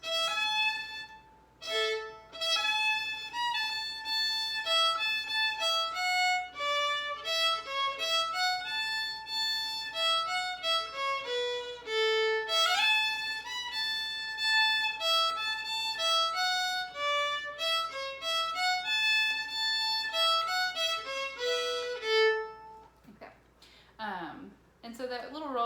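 Solo fiddle plays the A part of the early-intermediate tune "Bring Me Back My Hodi Cake" twice through, a steady, close melodic line with quick notes and a small roll, ending in a brief pause and faint handling.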